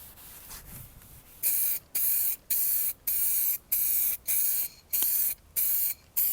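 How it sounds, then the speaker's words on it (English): A spray gun applies light coats of paint to a cheap BMW car in a series of about nine short, loud, hissing bursts, evenly spaced with brief silent gaps between them. "So I'm gonna do 2 to 3 light coats, then probably one full coat."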